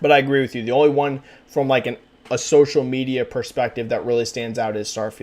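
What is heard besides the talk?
None of the usual background noises is heard.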